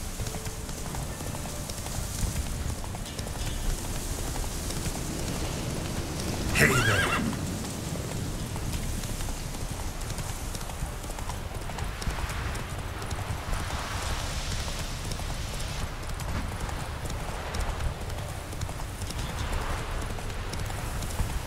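Roach the horse gallops in the Witcher video game, rapid clip-clop hoofbeats running throughout with a loud whinny partway through, set against rainy outdoor game ambience.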